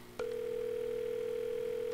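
A telephone tone in the horror video game August Night: a short click, then a clean, steady electronic dial tone that holds unbroken at moderate level until the end.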